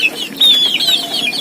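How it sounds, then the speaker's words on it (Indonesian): A free-range village hen clucking alone in a short, close series of calls, roaming freely while searching for a place to lay eggs. "Jadi kalau ayam saya ini sudah akan bertelur, dia akan mencari tempat, sibuk mencari tempat, posisi,"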